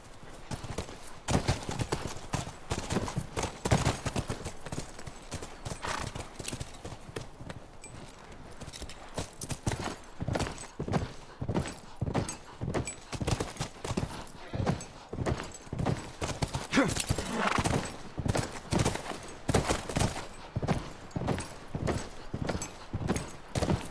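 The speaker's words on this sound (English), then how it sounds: "Come on, back to the horses." Horses clip-clopping through the snowy Hidden Pines corral area in The Last of Us Remastered, a steady, loud rhythm of hoofbeats that continues throughout, with an occasional faint snort.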